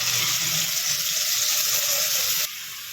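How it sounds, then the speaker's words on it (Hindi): Cumin seeds crackling in hot oil while tempering, a steady close sizzling hiss that suddenly drops to a quieter level near the end. "देखो जीरा तड़कने लगा है"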